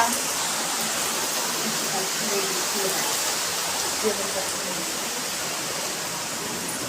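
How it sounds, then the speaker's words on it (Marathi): Heavy rain falls outside in a steady, even hiss that fills the whole stretch without letting up, with faint voices now and then beneath the downpour. "बाहेर पाऊस पडतोय"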